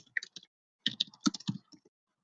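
Keys on a computer keyboard are pressed in a quiet, close sequence of light plastic clicks, a few isolated taps and then a quicker cluster.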